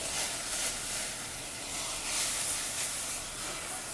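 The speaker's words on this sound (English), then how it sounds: "Now that the water is boiling" Water boils in a pot as a Fels-Naptha soap bar is added little by little, giving a continuous, even hiss and bubbling at moderate loudness.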